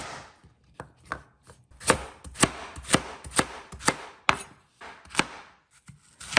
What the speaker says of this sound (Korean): 당근 한 개도 대충 썰어줍니다.